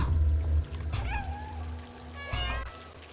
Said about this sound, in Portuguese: Os gatos me seguem.